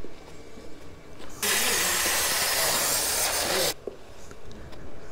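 O'Reilly brake cleaner sprays in one continuous, loud hiss of about two seconds, starting and stopping abruptly, with quieter workshop noise before and after.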